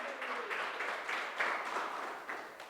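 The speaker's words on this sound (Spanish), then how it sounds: "Dale un aplauso al Señor esta mañana" An Easter Sunday church congregation claps in praise, a steady, moderately distant wash of applause with rhythmic pulses and no talk over it.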